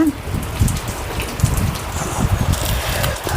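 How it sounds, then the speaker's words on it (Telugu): Steady rain pattering on a surface, a dense continuous hiss with scattered drops, moderately loud, with faint voices in the background. "అది చూడండి వాన"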